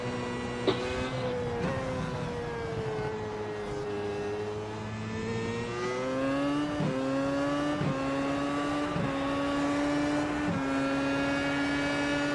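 Simulated race car engine from an iRacing FW31 at Circuit of the Americas, loud and close, with a sustained whining drone broken by a run of sharp downshift blips and rising engine pitch steps.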